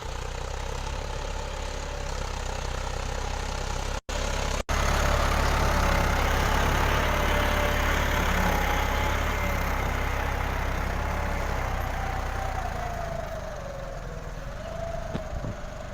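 Small Krishiraj tractor engine running in a field during ploughing, a steady close drone with a low rumbling hum and shifting pitch as it works, two brief dropouts early on, no talk.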